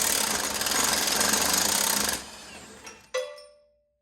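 A Milwaukee power tool on a 12-inch extension hammers hard at a rusty part on a 12v Cummins build, giving about two seconds of loud, steady rattling impacts, then stopping, followed by a couple of short metallic clanks.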